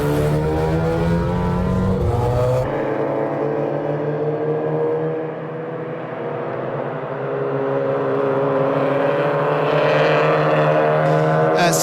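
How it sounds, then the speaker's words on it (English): Mazda MX-5 race cars at Croft circuit pull away onto the green flag lap, a loud close engine drone that rises and dips in pitch as cars accelerate past, with no talk over it. "The cars head out then onto their green flag lap"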